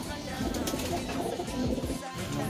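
Racing pigeons being loaded into a basket, with soft repeated cooing and light fluttering close by, mixed with background noise and a voice.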